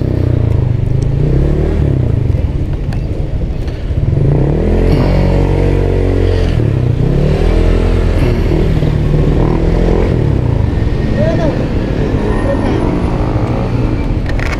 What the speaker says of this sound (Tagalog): Sarap talaga magmotor.